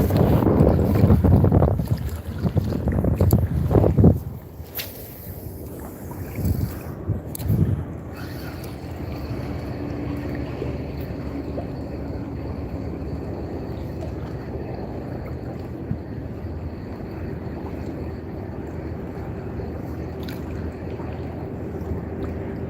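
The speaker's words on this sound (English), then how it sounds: "Oh, the wind picked back up again, blowing around my non-existent hair." Wind buffets a boat off the Florida east coast, loud gusty rumble on the microphone at first, then settling into a steady rushing roar with a few scattered knocks.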